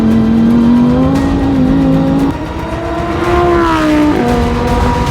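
A Lamborghini sports car accelerating hard on a track lap, its loud, close engine note climbing steadily through the gears with brief dips at each shift, heard alone without talk.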